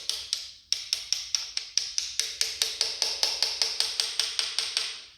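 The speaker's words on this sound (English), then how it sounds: "Take my hammer. If it won't go, you just tap it gently." Hammer gently tapping a piston and rod assembly down into an engine block during a rebuild: a steady run of about twenty light, sharp metallic taps at a regular quick rhythm, close up, with no talking.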